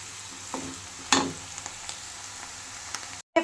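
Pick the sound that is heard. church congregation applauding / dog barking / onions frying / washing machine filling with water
onions frying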